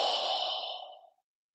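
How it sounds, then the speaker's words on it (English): One long, forceful breath pushed out through the mouth during a Tang Soo Do abdominal breathing exercise, a close, airy exhale that fades away over about a second. "We inhale, expand, and then exhale, contract."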